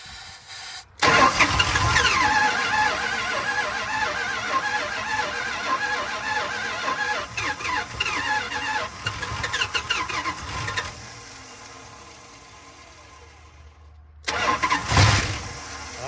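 A 1970 Dodge D100 with a 383 big block V8 cranks and fires, roaring loudly for about ten seconds under throttle, dropping off, then bursting back with another rev, close and raw.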